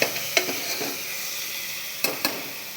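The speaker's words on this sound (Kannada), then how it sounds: "ಟೊಮೊಟೊ ಎಣ್ಣೆ ಬಿಡೋವರೆಗೂ ಈ ಥರ ನೀಟಾಗಿ ಫ್ರೈ ಮಾಡಬೇಕು" Tomatoes fry in oil in a pan for palak dal with a steady close sizzle. A few light clinks of a utensil stir through it and there is no talking.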